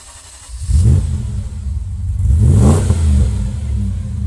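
A Lancia Thema 8.32 engine fires up and revs loudly twice, rising and falling in pitch, close and unaccompanied by voices.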